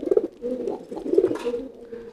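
A male pigeon cooing loudly in courtship, two close bursts of deep, throaty cooing separated by a short pause, alone with no speech.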